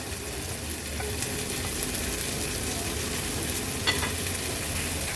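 Chopped capsicum sizzles and fries in a pan with onion and turmeric, a steady close crackle that holds throughout with faint stirring scrapes and no talking, while a vegetable dish is cooked for an Agri-Koli style veg thali.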